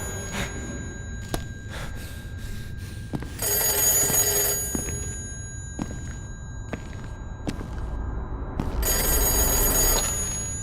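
A telephone bell rings in repeated bursts, loud and close, with quiet thumps and movement between the rings and no talking.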